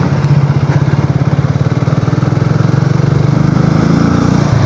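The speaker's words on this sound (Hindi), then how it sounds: "जो इसका एग्जॉस्ट का नोट मुझे सुनाई दे रहा है ना, वो थोड़ा सा मेलो डाउन हो गया है" Triumph Speed T4 350 motorcycle exhaust note thumps in a rapid, even idle pulse, loud and close, with a mellow low throb that runs unbroken and carries no voices.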